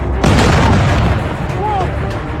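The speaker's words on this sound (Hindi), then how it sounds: "धमाके हुए" Heavy explosions at a sensitive site near Dimona, Israel, during Iranian strikes: a loud, deep boom opens the clip and is followed by rumbling blasts and debris noise, with voices underneath.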